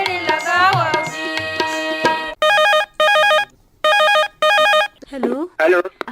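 Telephone ringing on an incoming caller's line during a Chhattisgarhi folk-song request radio phone-in, four loud even ring bursts with gaps, following the tail of a sung song with music.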